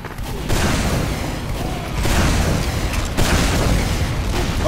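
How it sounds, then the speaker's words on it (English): Rocket launcher explosions in the video game Team Fortress 2 boom loudly and continuously, overlapping blasts and gunfire forming a dense, dominant barrage with brief swells, and no clear talk over it. "let's just go shoot things with a rocket launcher"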